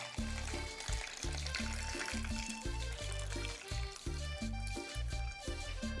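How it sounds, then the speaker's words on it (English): Water poured from a tap or container into a pot holding chilies, tomatoes and onion, a continuous close splashing fill over a rhythmic thumping background that keeps going steadily throughout. "then we're going to cover it with water."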